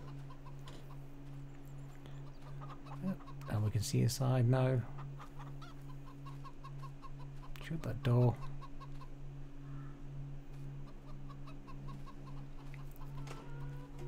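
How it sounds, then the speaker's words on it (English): Chickens in Farming Simulator 22 give a few short clucking bursts inside a coop, with a louder flurry early on and another briefly later, over a steady low hum while someone talks. "That's it. We have chickens."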